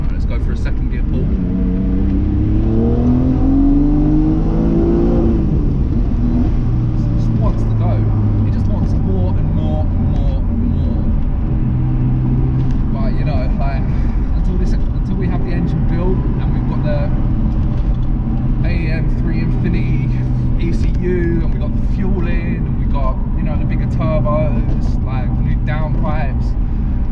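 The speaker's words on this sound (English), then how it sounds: "let's go for a second gear pull" A twin-turbo Mitsubishi GTO accelerates hard in second gear, its engine note rising in pitch for several seconds before settling into a steady roar. The sound is loud and close, with people talking over it inside the car.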